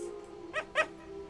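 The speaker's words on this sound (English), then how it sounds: "She lets out a short bark," A dog in an audio drama gives two quick, close yips or short barks in a row, each clipped and light, over a steady low hum with no talking.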